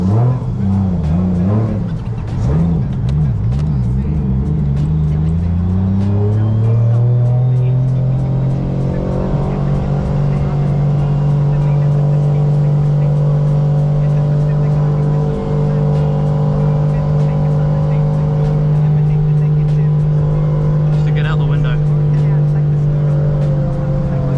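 A cold Toyota race car idles and revs on track while warming up, its engine pitch sweeping and wavering in the first seconds before settling into a steady, loud drone that holds throughout.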